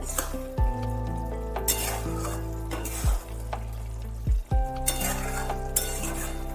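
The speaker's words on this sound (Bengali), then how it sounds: "ধনে পাতা দিয়ে অবশ্যই ভালোভাবে নাড়িয়ে নিতে হবে" Oil sizzles steadily as mixed winter vegetables and coriander leaves are stirred in a pan, with a few scraping clinks of a utensil against the pot.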